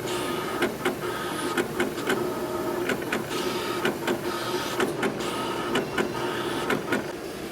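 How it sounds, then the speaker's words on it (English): A Roland printer-cutter cutting printed vinyl, a steady mechanical whir and hum with regular clicking and ticking strokes as the blade moves, continuous and close with no talking. "After it figures out all its vectors, it then begins to cut."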